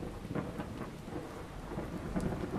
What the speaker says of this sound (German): dich hat gerade voll der Blitz eingeschlagen